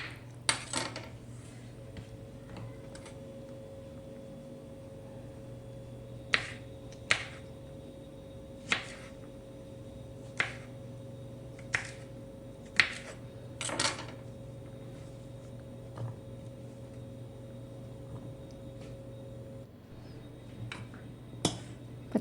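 A knife cuts green beans into medium pieces for a home-style sambar, making quiet, sharp, isolated taps against the board every second or two, with a few quick double strikes, in an otherwise calm kitchen.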